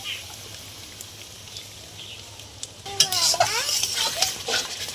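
A masala of green chili, onion, ginger-garlic paste and yogurt is stirred in a pan for a jackfruit curry with chicken neck and gizzard, a quiet scraping at first, then livelier stirring and clinking with a soft sizzle in the second half.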